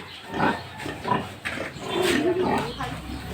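Pig grunts and snorts at a Filipino farm pen, coming in short bursts amid people talking in Tagalog, fairly close and moderately loud.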